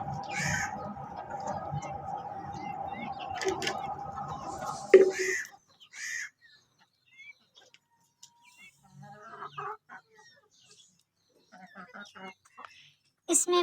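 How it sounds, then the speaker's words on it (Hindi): Village hens and roosters, some of them Aseel, cluck and call during an evening feeding. The birds are busiest at first, then fall to sparse calls, with a person talking at times. "इसमें बहुत सी मुर्गियाँ शामिल हैं, कुछ असील भी हैं और कुछ दूसरी हैं और सब मिलजुल कर रहती हैं।"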